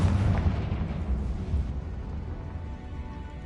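A Confringo spell explosion in the Hogwarts Legacy video game goes off as a loud, sustained rumbling blast that slowly fades over a few seconds, with no talking over it.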